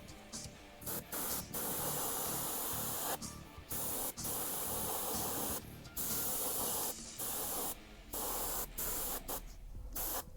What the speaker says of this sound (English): Yeah, so that's not handling the airbrush quite as well. It's going through fine.